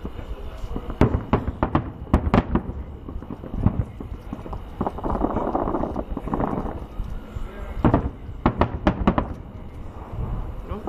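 Eid al-Fitr fireworks burst over Riyadh in repeated sharp pops and crackling volleys, some in quick clusters, at a moderate distance, while people chatter nearby.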